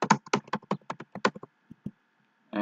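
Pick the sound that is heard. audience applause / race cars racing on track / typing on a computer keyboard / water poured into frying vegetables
typing on a computer keyboard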